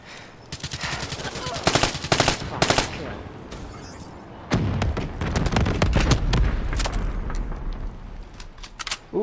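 In the multiplayer video game Call of Duty Black Ops III, a weapon fires sharp 3-round bursts in quick succession, followed by heavier, sustained rumbling gunfire and booms.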